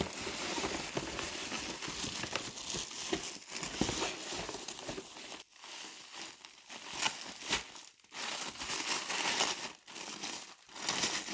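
A parcel ordered through Vinted is unwrapped, with continuous crinkling and tearing of packaging close by, punctuated by brief pauses and louder rustling bursts, no talking.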